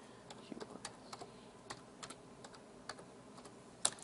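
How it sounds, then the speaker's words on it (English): Quick keystrokes on a computer keyboard as the alphabet is typed out, a steady run of light, fairly quiet clicks with one sharper tap near the end. "So I'm just going to type in the alphabet."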